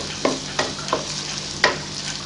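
Onions frying in a pan as the base for a gravy, a steady sizzle with a few sharper crackling bursts as the pieces are stirred, close and alone with no talk.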